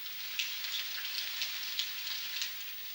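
Steady rain falls in a natural outdoor setting, a soft continuous hiss of drops with small irregular patters, fairly close and even in level, with no voices.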